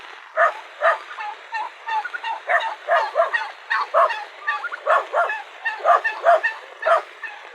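Chickens cluck and squawk in a busy, repeated series of short calls, close by and fairly loud, with no voices over them.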